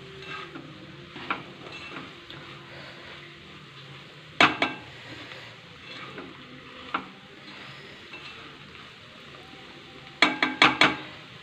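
A spatula stirs hilsa fish head into sizzling greens in a frying pan, soft scraping and steady frying with a few sharp metal clinks against the pan, close and without talk.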